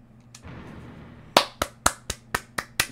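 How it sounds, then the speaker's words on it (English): Hands clapping at a gaming session, a run of about seven sharp, evenly spaced claps close to the microphone after a second of quiet hiss. "Clap it up."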